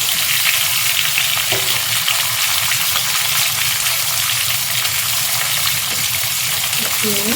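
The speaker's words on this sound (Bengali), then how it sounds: "একটু ভালো করে ভেজে নেব।" Thin long strips of raw green banana fry in hot oil, producing a loud continuous sizzle with occasional stirring scrapes and a voice speaking faintly over it.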